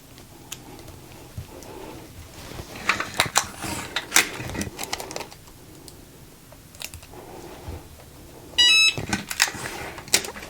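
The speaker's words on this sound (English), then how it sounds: "you might have heard my Easy Press beep" Cricut heat press used for infusible ink mugs gives a short electronic beep, a bright tone burst near the end amid scattered handling clicks and taping noises.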